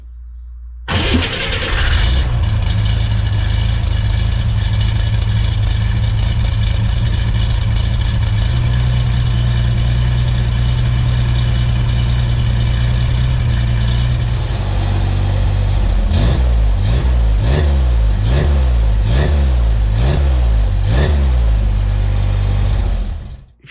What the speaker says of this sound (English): let's go fire up the car with the new exhaust so you can hear what it sounds like